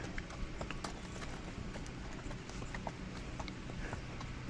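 Horse hooves clip-clop steadily on the ground amid a busy crowd of horses, with faint scattered sounds nearby and no clear talk.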